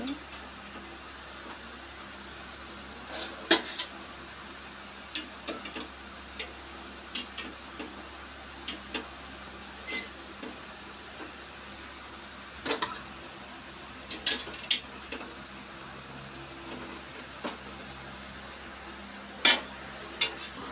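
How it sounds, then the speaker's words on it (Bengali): Knife tapping a board while cutting boiled taro into pieces in a home kitchen, heard as sparse, faint, sharp ticks spread irregularly over a quiet background. "এগুলোকে এবার পিস পিস করে কেটে নেওয়া হবে।"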